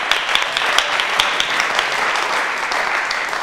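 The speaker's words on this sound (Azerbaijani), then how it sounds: "Xaqan Əsrəmital ansamblini ürəkdən alqışlayırıq." A concert audience gives dense, sustained applause for a folk ensemble, with many hands clapping at once at a strong, steady level.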